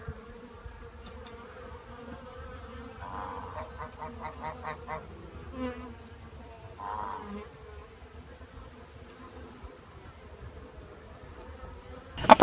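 Honey bees hum around backyard homestead hives, a steady low drone with occasional closer buzzes passing by, faint overall and with no talking.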